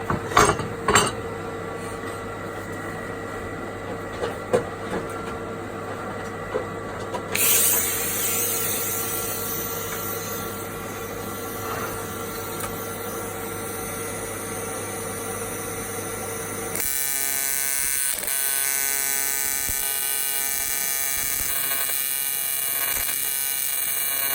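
An electric welder crackles and buzzes steadily on a broken cast casing of a free 3 horsepower single phase motor, a loud continuous hiss with a few sharp pops, changing tone partway through, with no talking.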